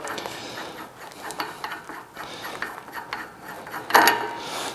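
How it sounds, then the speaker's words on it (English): A wrench clicks and ratchets while loosening the nut on a woodworking shaper spindle, a close run of irregular metallic ticks with a sharper clank near the end. "So we'll take the nut off."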